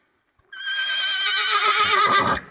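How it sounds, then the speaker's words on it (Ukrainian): A filly lets out one long, loud whinny at close range, calling for her mare, rising sharply and trembling before cutting off. "Вона їрже за кобилу."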